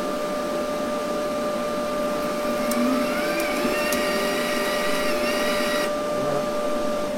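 Wire feeder of a helviLITE192 multi-process welding machine runs steadily, a loud continuous motor whine with a stable pitch that holds for several seconds and then shifts near the end.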